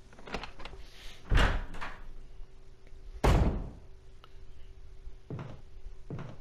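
Heavy doors in the Resident Evil remaster thud open and shut with two loud, close slams, framed by softer knocks and creaks against a low steady hum.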